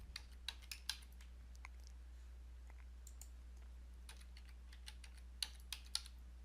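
Quiet keystrokes on a computer keyboard as a user ID and password are entered, scattered sparse clicks in small irregular bursts over a low steady hum in a calm office setting.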